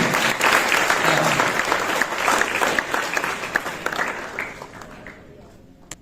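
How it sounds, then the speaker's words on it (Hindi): Applause from a poetry-gathering audience at an IIT Kanpur kavi sammelan, a dense, steady crowd clapping that fills the room and then thins and tapers off toward the end. "तालियां उतनी बजी नहीं है, थोड़ा और अच्छे से"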